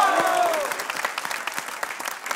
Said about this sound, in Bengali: জোরে একটা তালি দাও